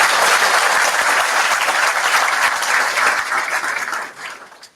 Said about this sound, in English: I want to give them a round of applause too.